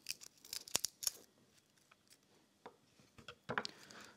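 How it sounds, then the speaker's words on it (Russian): Crisp, close crackling and snipping sounds come in short irregular bursts as a garlic clove's papery skin is peeled, with quiet pauses between. "Почищу чеснок. Я отделю от него зубчик."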